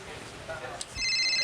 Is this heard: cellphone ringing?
yes